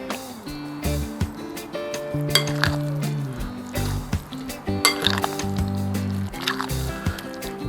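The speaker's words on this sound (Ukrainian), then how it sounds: "тепер все гарно вимішую" Fried eggplant salad with fried walnuts, sour cream, khmeli-suneli, ground pepper and salt gets stirred in a bowl, giving soft scraping and light clinks of a utensil against the dish under steady background music.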